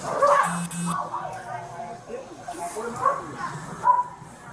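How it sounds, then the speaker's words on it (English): A small dog barks and yips aggressively in short, uneven bursts, mixed with whimpers, while people talk over it throughout. "It's always the little dogs that get aggressive."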